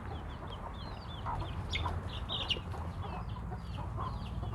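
Chickens, free-range village birds, cluck and chirp off and on over a steady low rumble on a Thai farm, several birds calling at a moderate distance with no one speaking.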